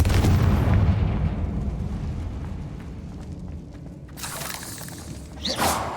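A Confringo explosive curse goes off in the Hogwarts Legacy video game: a loud, booming blast with shattering debris, rumbling on for several seconds before a second sharp burst near the end.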